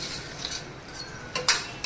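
Utensil scraping and clinking in a pan while marinated chicken 65 is mixed in heated oil, a few soft close strokes with a sharper clatter near the end, no voices.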